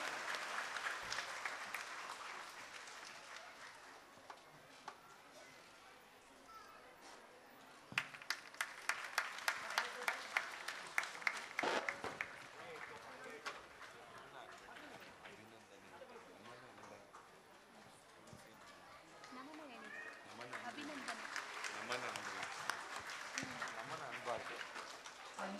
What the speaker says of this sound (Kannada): ದಯವಿಟ್ಟು ಎಲ್ಲರೂ ಜೋರಾದ ಚಪ್ಪಾಳೆ ಮುಖಾಂತರ ಪ್ರೋತ್ಸಾಹವನ್ನ ಮಾಡಬೇಕಂತೇಳಿ ಕೇಳ್ಕೋತೀನಿ.